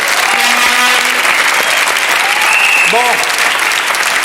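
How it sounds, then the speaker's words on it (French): A studio audience at a French television game show applauds Laurent Baffy with dense, steady clapping that fills the whole stretch, while a host's voice speaks briefly over it. "On applaudit Laurent Baffy encore une fois"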